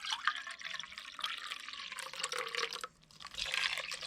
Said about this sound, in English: And then I'm going to do a cup of lukewarm water.